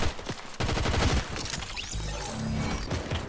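Rapid bursts of automatic gunfire ring out in a shooter video game, dense rattling volleys and single sharp shots packed close together, loud and continuous with no talk.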